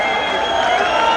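A large rally crowd applauds and cheers a welcome, a dense continuous wash of clapping and voices held steady and loud throughout, with no single speaker standing out.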